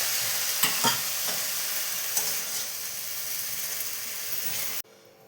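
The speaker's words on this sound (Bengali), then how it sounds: "শাকটা একটু নাড়ার পরে এই যে বড়িটা আমি ভেজে রেখেছি, শাকের মধ্যে বড়িটা দেবো" Leafy greens frying in a pan with a bright, steady sizzle, a few spatula scrapes and knocks as they are stirred, then the sound cuts off abruptly near the end.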